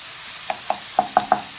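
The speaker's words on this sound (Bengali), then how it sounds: "পেঁয়াজটা একটু ভাজা হোক" Onions fry in a pan for vegetable fried rice, with a faint sizzle and five sharp metallic taps of a spoon stirring against the pan, picking up speed, close by and with no talking.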